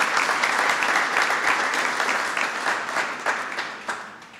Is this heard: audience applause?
yes